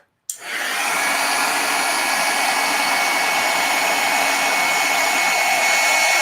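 A heat tool switching on with a click and then blowing hot air in a steady loud whir to emboss powder on a stamped card, running without a break.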